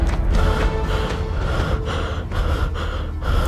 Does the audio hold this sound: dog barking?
no